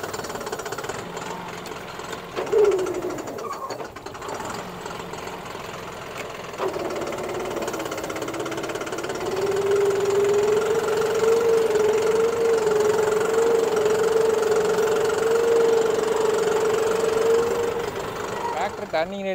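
A John Deere 5405 CRDI 63 hp four-wheel-drive tractor engine runs steadily while the tractor turns, a continuous mid-pitched drone that grows slightly louder and rougher partway through, with no one talking.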